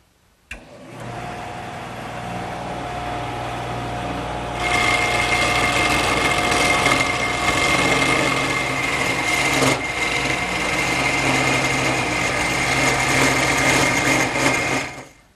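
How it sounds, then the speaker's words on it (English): A wood lathe turns a taper on a table part with a square carbide cutter, a steady motor whine that grows louder and rougher as cutting begins, running continuously until it stops at the end. "I've now changed the triangular cutter to a square carbide cutter, and that'll make quick work of turning the taper."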